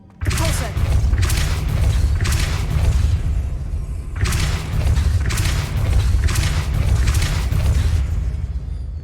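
Depulso force-push spell cast repeatedly in the Hogwarts Legacy video game: a run of sharp, booming bursts at a fairly regular pace, set over a loud, steady low rumble that lasts the whole stretch.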